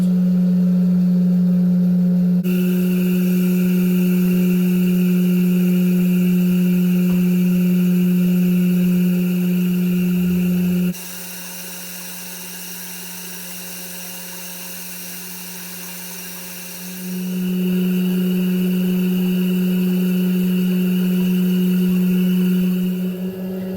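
A cream separator runs on goat milk with a steady motorized whine and hum, loud and constant, briefly dropping in level midway before returning to full strength, with no voices.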